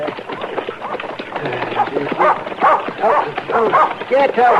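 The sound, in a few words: dog barking and whimpering, radio drama sound effect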